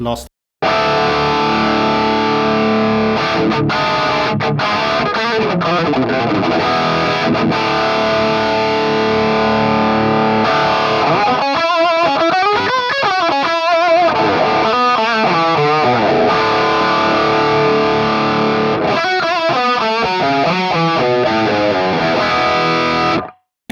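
Electric guitar played through a Hotone Ampero modeling a Marshall Silver Jubilee amp, giving a loud, continuous distorted tone with sustained chords and faster riffing passages, ringing on until a sudden stop.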